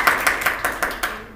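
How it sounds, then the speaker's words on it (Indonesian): A small classroom group claps for a student named Elin, about six distinct hand claps in an even rhythm, close and moderately loud, fading out at the end. "Oke, tepuk tangan untuk Elin."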